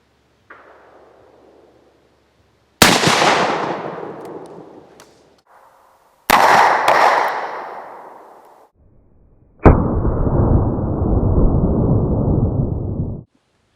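A .44 Magnum Ruger Redhawk revolver fires three loud, separate booms at a cabbage target, each cracking sharply and then rumbling away in a long fading tail, with no talk over them.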